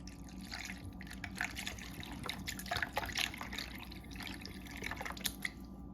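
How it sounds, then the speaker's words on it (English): Vegetable broth and a little water poured into a pot of garden collard greens cooked with ham hocks, a steady close trickle and drip of liquid with no talking. "now I'll be using also the vegetable broth in both of them with a little bit of water"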